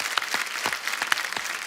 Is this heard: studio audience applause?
yes